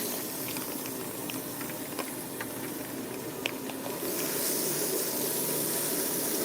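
Running water rinsing a client's hair at a salon sink, a steady hissing spray that holds throughout and grows slightly brighter and louder toward the end, with a few faint clicks over it.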